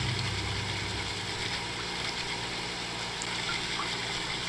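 Steady water filling and gushing in a Nancy Drew game, Ghost Dogs of Moon Lake, a continuous rushing wash with a low pump-like rumble underneath, no voices.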